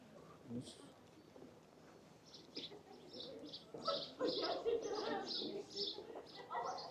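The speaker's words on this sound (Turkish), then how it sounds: "Kuşlar cıvıl cıvıl." Birds chirping and cooing in a Cotswolds village, faint, scattered calls that grow denser partway through, with a person speaking quietly.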